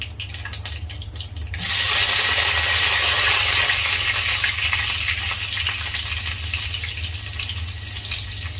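Loud, steady sizzling of mustard seeds and shallots frying in hot oil starts after a short quieter moment and continues without a break; no voices.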